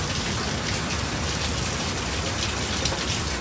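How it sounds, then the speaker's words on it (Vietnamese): Heavy rain pours down during a storm in the United States in a constant, dense roar, loud and unbroken throughout, with no voices. "mưa quá lớn"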